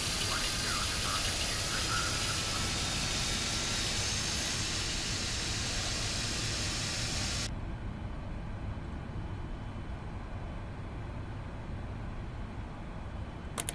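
KLM long-haul jet airliner engines spooling up for takeoff in the X-Plane 12 flight simulator, a loud, continuous roar that holds steady, its bright upper hiss dropping away halfway through while the deep rumble carries on.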